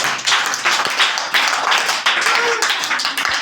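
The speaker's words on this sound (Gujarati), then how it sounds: "હાલો રિયા માટે તાળી પાડી એકવાર જોરદાર" Schoolchildren in a primary school classroom clap together for a classmate, a dense, close burst of overlapping hand claps that comes in uneven waves and continues for a few seconds.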